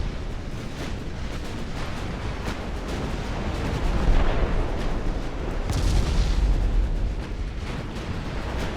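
Warship gunfire in Ultimate Admirals: Dreadnoughts, a heavy cruiser naval battle, comes through as a continuous rumbling barrage of booms that swells louder around the middle and late stretch, with no talking.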